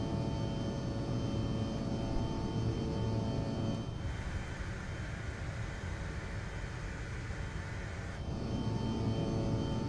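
An SAS CRJ airliner climbing out of Bodø just after takeoff, a steady broad cabin engine roar with a brief mechanical shift midway as the landing gear retracts, constant and fairly loud with no talk.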